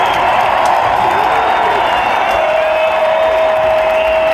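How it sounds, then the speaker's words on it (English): A loud, dense college football stadium crowd roaring and cheering continuously, with a steady wash of voices and some clapping. "This crowd is extremely loud."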